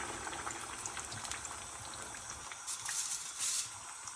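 Potato cutlet coated in egg sizzling in hot oil in a medium-sized frying pan, a steady crackling fry with louder bursts of spatter near the end.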